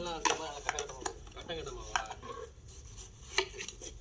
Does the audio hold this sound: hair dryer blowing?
no